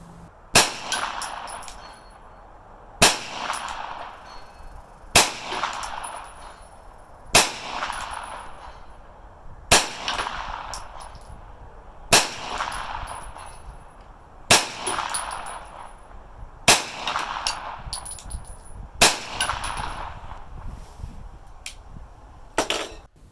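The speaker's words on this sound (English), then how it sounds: "this 9mm rifle out to 220 yards, just about on the big target there, went 7 for 10 for impacts" A 9mm rifle firing at a steel target 220 yards out, ten sharp evenly spaced shots, each followed by a faint metallic ring of steel impacts, with quiet outdoor gaps between shots.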